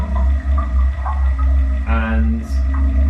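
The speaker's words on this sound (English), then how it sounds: "we've got the kind of stridulatory insect sounds of aquatic insects and sort of buzzing and whirring and ticking sounds of plant photosynthesis" Underwater recording in a pond: a constant low hum with faint buzzing, whirring and ticking from stridulating aquatic insects and photosynthesising plants, steady and continuous throughout.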